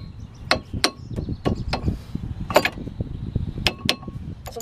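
A hammer strikes metal during a brake job on a van, a series of sharp, irregular clanking blows, close and loud, over a low background clatter with no talking.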